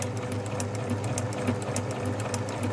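Sewing machine running a narrow zigzag stitch on a rope rug, a steady fast mechanical whir with rapid regular needle ticks, close and continuous without speech.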